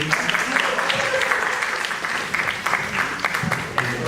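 Audience at a TEDx salon talk clapping for the speaker. The applause is moderately loud and steady, with scattered voices mixed in.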